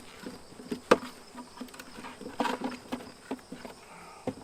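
Bees hum and buzz around an opened beehive during a honey harvest, a soft steady drone mixed with small taps and knocks of handled frames, fairly quiet and close.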